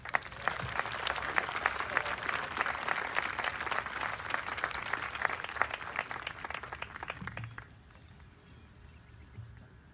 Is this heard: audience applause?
yes